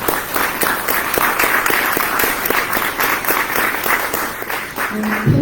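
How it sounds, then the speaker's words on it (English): An audience at a political event in Queens applauds steadily, a dense, continuous wash of clapping from many hands that holds level throughout, with a faint voice near the end. "if we could give them a round of applause"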